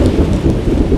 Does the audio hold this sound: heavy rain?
yes